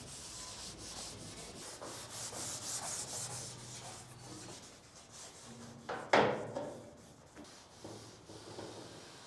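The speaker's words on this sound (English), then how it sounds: "basically wax and grease remover the whole tray, all the bull bar, and just get it as clean as possible" Wax and grease remover being wiped over the metal tray and bull bar of a 4WD, a steady soft rubbing and scrubbing with one sharper knock or scrape partway through, close and alone with no voices.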